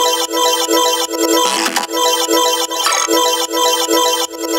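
A repeating glitchy synth chord pattern built by duplicating clips in Ableton, bright and stuttering with choppy rhythmic cuts and a couple of noisy swept bursts, loud and thin-sounding with no low end.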